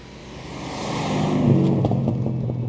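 A Ford Falcon XD ESP V8 gives a deep, rumbling burble that swells steadily as the engine is opened up, loud and close with no voices over it.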